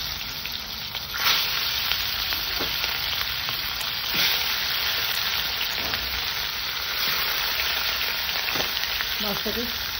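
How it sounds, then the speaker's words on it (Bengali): Fish fries in mustard oil in a hot wok on a gas stove, giving a continuous close sizzle and crackle with faint pops and spatters for the whole stretch, and no talking. "আমি মাছ ভাজার জন্য সরষের তেল দিয়ে দিলাম।"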